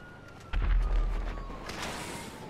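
Explosions in the video game Grand Theft Auto V: a sudden heavy boom about half a second in, with deep low rumble that lingers and slowly fades, followed by a later burst of crackling debris.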